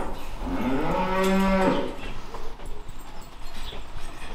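A single long, loud moo from cattle at feeding time on a farm, close by, followed by low farmyard background noise.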